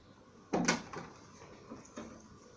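A drawer in a hospital resuscitaire unit is shut after cleaned items go back into their tray, giving one sharp close knock followed by a couple of softer bumps and rattles in a quiet room.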